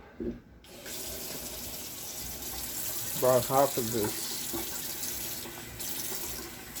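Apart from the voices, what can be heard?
water running from kitchen tap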